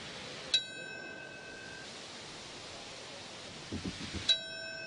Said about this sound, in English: Firefighters rang the bells at Ground Zero in New York.